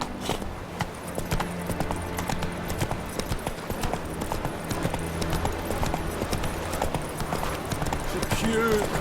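Roach, the horse in The Witcher 3 video game, clip-clops along at a steady trot, hooves close and continuous while someone talks over them and a brief whinny rises near the end.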